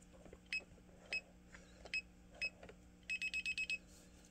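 A DSC Impassa alarm system keypad sounds its alarm: four single loud beeps spaced about half a second apart, then a rapid burst of six beeps, close and clear.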